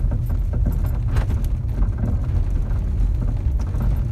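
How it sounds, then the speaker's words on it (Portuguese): Worn sway bar links knock in a car's suspension, a dense run of low thuds and rattles under a rumbling road noise, heard from inside the moving car. "Sente barulhinho, suspensão."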